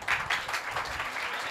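Audience applause at an Independence Day address in Suraj Mal Vihar, Delhi, a dense, steady wash of many hands clapping at moderate volume for the whole moment, with no voices over it.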